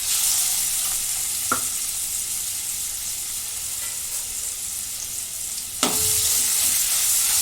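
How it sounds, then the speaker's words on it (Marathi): A ginger, garlic, coconut and onion paste roasting in a pan makes a steady close sizzle, with a couple of sharp clinks from the spoon striking the pan. "दहीत वाटण मी चांगलं भाजून घेते"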